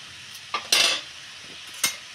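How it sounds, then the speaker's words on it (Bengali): Metal spatula (khunti) scraping and clinking inside a kadai with a broken handle as food is stirred, a few short scrapes and one longer rasping stroke, close and fairly quiet with no talking. "এবার এতে একটু একটু নাড়াচাড়া করে দিচ্ছি, না হলে এটা সেট হয়ে যাবে।"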